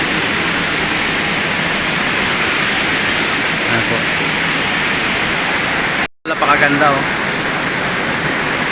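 A river and waterfall at Twin Falls make a steady, full broadband roar of rushing water throughout. A person speaks briefly near the end over the noise.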